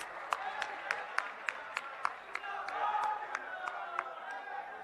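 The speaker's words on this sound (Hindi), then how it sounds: "डॉक्टर अखिलेश प्रसाद सिंह जी, आप तालियों के साथ उनका स्वागत कीजिए" Steady rhythmic clapping from a crowd, with broad chatter and a few voices mixed in underneath, moderately loud and close.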